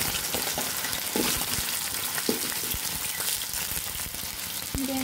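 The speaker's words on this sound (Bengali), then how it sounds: "ঘাটি কচুগুলো ভালোভাবে ভেজে নিতে হবে।" Pieces of ghati kochu, a taro, fry in hot oil in a wok with a dense, crackling sizzle, broken by a few sharp pops and scraping stirs close by.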